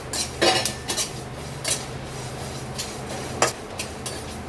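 Metal spoon scraping and clinking against a pan as mustard seeds and melon seeds are lightly dry-roasted for an egg dish, several sharp clatters over a low steady hum, no voices.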